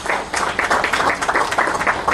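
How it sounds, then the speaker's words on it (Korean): Scattered applause from an audience at a memorial service for massacre victims in Daejeon. The clapping is light and steady and carries on throughout. "우리 유족분들 힘내시라고 응원의 격려의 박수 한번 부탁드리겠습니다"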